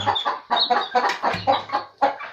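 Chickens cluck close by at a campsite in rice fields where cattle are raised, in a steady run of short rhythmic calls with no talk over them.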